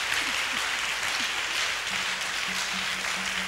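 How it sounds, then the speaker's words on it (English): Congregation clapping for Jesus during a revival service at a Christ Apostolic Church gathering, a dense, even wash of applause with faint voices and tonal sounds beneath it. "clap for Jesus"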